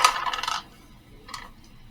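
Handful of tabletop dice rolled during a tabletop role-playing game session, a quick bright rattle and clatter lasting half a second, followed after a pause by a fainter second clink, close and alone without talk.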